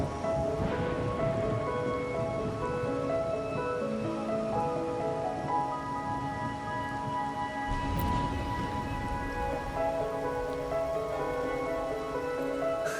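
Steady rain patters on a surface throughout in the video game Wuthering Waves, with soft background music playing underneath.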